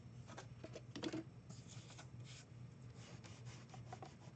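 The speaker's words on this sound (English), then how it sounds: "burnishing down that glue really well so it doesn't come back up" Cloth rubbing over glued collage paper to burnish it flat, a quiet, close series of soft scrubbing strokes in an irregular rhythm with a low background hum.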